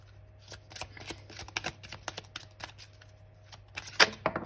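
Tarot cards are shuffled and handled up close in a quiet room, a series of crisp riffling and flicking bursts ending in a sharp snap as a card is drawn, with no voice.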